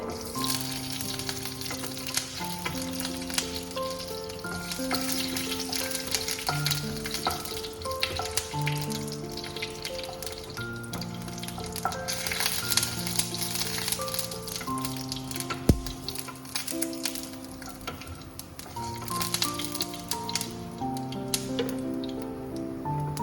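Panch phoron and broken dried red chillies frying in oil, a continuous close crackle and sizzle over a musical backing track, no talk.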